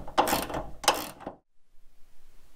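A nut being tightened onto the ball end of a gas bonnet strut gives two quick ratcheting bursts of clicks close by, followed by quiet.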